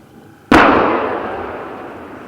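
A warhead detonates inside a Blastsax bund as one sharp, loud blast that rolls into a long decaying rumble, heard outdoors with no voices.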